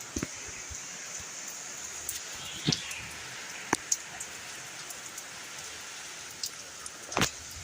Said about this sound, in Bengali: দেখো এখন বৃষ্টি হচ্ছে, একদম ছাড়ে বৃষ্টি হচ্ছে